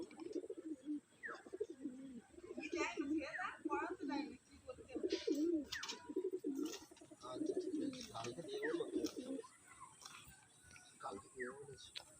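Throaty cooing from several pigeons nearby, one call overlapping the next, with a faint high whine running underneath.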